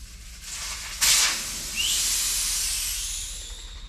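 Air hisses loudly out of a tubeless gravel bike tyre with no compressor in use. A sharp burst comes near the middle, then a steady hiss with a whistling edge holds to the end, close to the microphone and with no talking.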